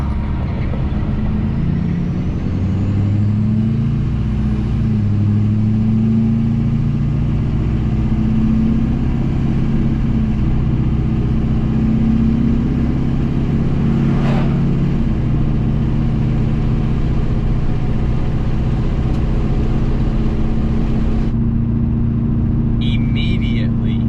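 A pickup truck with an LBZ diesel engine pulls away and drives, its low engine drone rising and settling through gear changes from inside the cab, steady and close, with someone talking at times.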